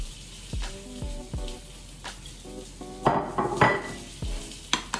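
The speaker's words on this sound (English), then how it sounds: "So let me get that egg really beaten well in there" A fork beats egg into grated pecorino cheese in a bowl for a zucchini casserole topping, giving irregular ringing clinks and scrapes against the dish, close and moderately loud, with pauses between strokes.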